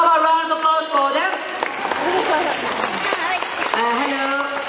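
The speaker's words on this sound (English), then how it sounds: "How about a round of applause for them?" Audience applause at a talking parrot show rises as a broad wash of clapping, heard alongside voices talking over it.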